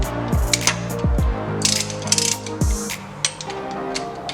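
Ratchet torque wrench clicking as it tightens timing belt bolts on an Eclipse 420A engine during a timing belt replacement, a few quick bursts of close, loud pawl clicks with short pauses between.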